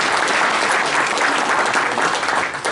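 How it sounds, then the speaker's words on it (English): Sustained applause from a meeting audience, steady dense clapping filling the room from start to finish with no talk over it. "Another round of applause."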